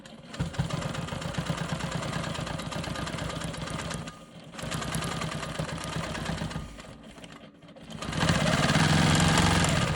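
A sewing machine runs in steady bursts while stitching in the ditch around a triangle on a Dutchman's puzzle quilt block, a close, fast mechanical whir that pauses briefly twice between runs.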